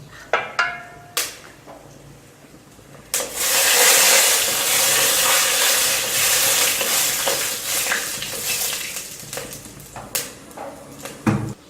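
Curry leaves and dried red chillies drop into hot oil with mustard seeds in a clay pot for pirandai chutney. A few sharp clicks and stirring taps come first, then a loud, sustained sizzle that gradually fades.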